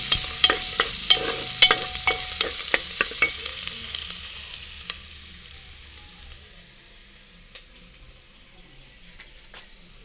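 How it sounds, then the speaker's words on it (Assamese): A mixture frying in a pan while being stirred, with rapid scraping clicks of the spatula over a bright sizzle in the first half, then a fainter sizzle with only occasional strokes. "এইখিনি এতিয়া ধুনীয়াকৈ লৰাই যেতিয়া অকণমান ৰঙচুৱা হ'ব"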